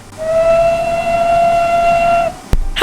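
A low, steady steam whistle from a City of Truro 3700 Class locomotive in Train Simulator blows for about two seconds, loud and close, ending in a sharp click.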